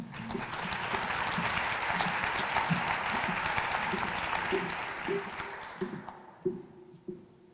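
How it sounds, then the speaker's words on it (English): A round of applause at the 2021 Teacher of the Year Awards ceremony, broad crowd clapping that swells and holds steady, then thins out into scattered claps as music or a low tone rises near the end. "Let's give them a round of applause"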